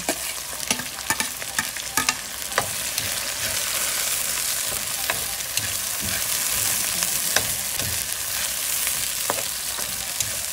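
Tomatoes sizzle steadily in a pan for chicken biryani, under a continuous hiss with repeated scraping stirs and clinks from a utensil.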